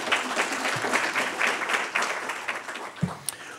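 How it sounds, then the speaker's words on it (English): Applause fills a university anniversary research symposium, honoring the two event organizers: a steady wash of many hands clapping at moderate volume, with a few louder claps near the end. "please give a round of applause to Harley and Katie as well"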